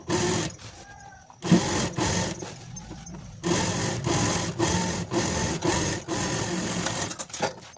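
A sewing machine stitches a zipper onto a saree cover made from old denim jeans, with rapid mechanical runs broken by short pauses and handling noises, close and loud.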